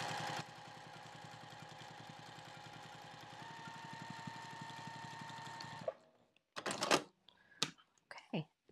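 A sewing machine stitches across the top edge of a sling bag, humming steadily and close for about six seconds before stopping, followed by a few short handling clicks and rustles.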